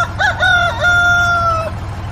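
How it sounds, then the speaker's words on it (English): A rooster crows once nearby, a loud wavering call that holds a long drawn-out note before cutting off, over a low background hum. "Rooster."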